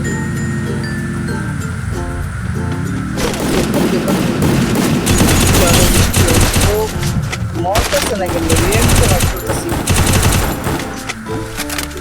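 Gunfire from a mobile shooting video game crackles in dense, rapid automatic bursts for most of the stretch, loud and continuous, while a player talks over it.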